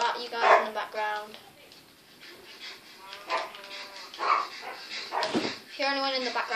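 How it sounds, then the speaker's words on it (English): Rottweiler dog barking and yelping indoors in the background, several short barks and whimpers scattered across the clip while a person talks over them. "it's my dog Skye. She's a Rottweiler"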